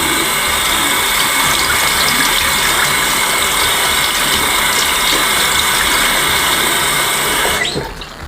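Philips Norelco Multigroom 7000 trimmer parts are rinsed under a steady running tap, a continuous broadband splash and hiss that holds evenly for about seven seconds and then cuts off near the end.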